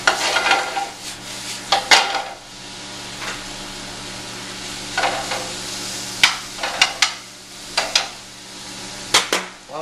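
Chicken sizzles softly in a hot frying pan under scattered scraping and clinking as a utensil stirs it around, no voices present.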